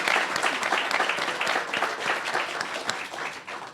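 Dense, sustained applause from an audience for a group of speakers, many hands clapping together in a full, even roar that holds steady and tapers only slightly at the end, no talking.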